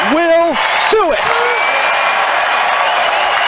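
Home crowd at the Walter Pyramid roars as Long Beach State closes out a men's basketball win over Kansas State, a loud sustained cheer with whoops and clapping under an announcer's excited voice.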